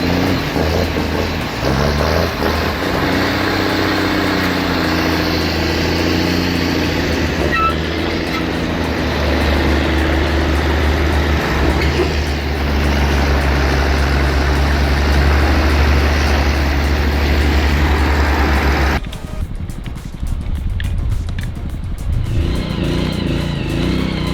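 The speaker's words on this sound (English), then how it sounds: "You can almost hear that engine working its heart out." A heavy truck engine roars and labors continuously at high load climbing uphill, deep and loud, with the sound shifting and thinning near the end.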